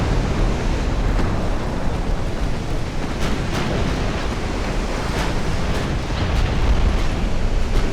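Rumbling naval battle in a video game set at Port Arthur, with dense continuous low roar and crackling bursts layered over broadside cannon fire, loud and sustained with no speech.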